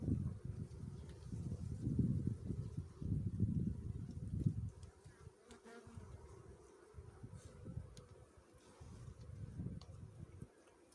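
Honeybees buzz steadily over frames in an open hive while weakened colonies are being combined, a dense close hum that swells and fades, loudest early on and quieter in the middle.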